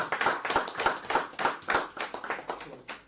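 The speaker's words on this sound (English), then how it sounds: "Please give him a round of applause." A live event audience claps steadily in unison, making loud, even beats about three per second with no talk over them.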